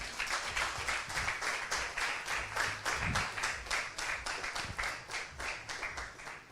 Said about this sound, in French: applaudissons encore pour ce moment.